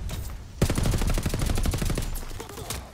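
Rapid automatic fire from a zero-recoil beam gun in a Vanguard shooter game, a dense continuous burst of closely spaced shots starting abruptly after a short quiet lead-in and running steadily to the end.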